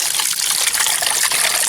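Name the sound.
water flowing from bamboo water hose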